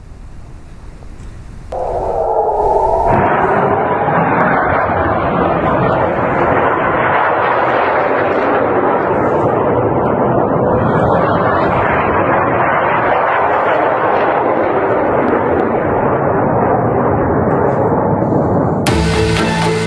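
Missile strikes from Iran hitting targets in Israel, with interceptors failing and buildings and vehicles set ablaze: a loud, sustained roar of blasts and rumbling fire that runs continuously for nearly the whole stretch, with a sharper burst near the end.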